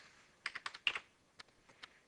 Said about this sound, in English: I hit tab on my keyboard